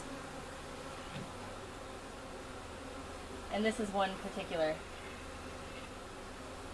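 Honeybees buzzing during a hive installation at a home, a faint steady hum in the background while a person speaks briefly over it.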